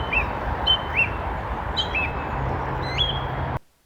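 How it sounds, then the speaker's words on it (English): A song thrush sings in short, bright phrases repeated several times over a steady roar of nearby traffic, the bird clear and fairly close above the constant low rumble. "I heard an optimistic song thrush singing above the noise of the nearby traffic."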